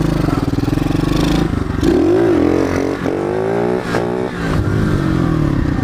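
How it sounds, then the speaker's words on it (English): A pit bike engine revs hard during a wheelie attempt, loud and close, rising and falling in pitch through several throttle bursts with some clatter and scraping. "getting the front wheel up"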